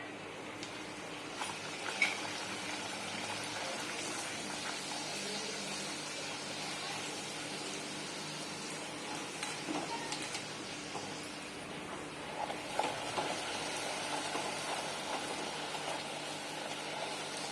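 Puris deep-frying in hot oil for an Amras Puri thali, a steady broadband sizzle and bubbling that holds throughout with small pops and spikes, close and moderately loud, no talking.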